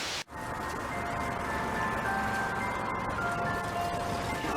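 An ice cream truck plays its looping chime melody, clear tones sustained over a steady background hum, with no speech.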